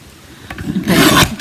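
A paper guillotine trimmer slicing craft paper, a short rasping scrape that swells into a louder rough cut lasting about half a second, close and with no talking.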